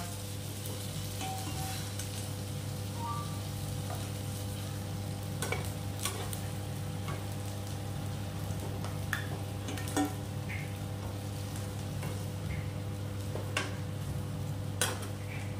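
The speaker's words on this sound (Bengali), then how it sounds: "দেখো এগুলো খুব কড়া করে ভাজতে হবে না" Lentil fritters for dahi vada deep-fry in oil with a steady, low hiss under a constant hum, broken by occasional faint clicks and taps of a utensil, quiet and unbroken for a long stretch.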